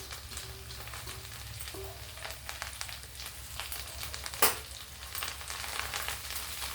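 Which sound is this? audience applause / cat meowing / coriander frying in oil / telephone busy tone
coriander frying in oil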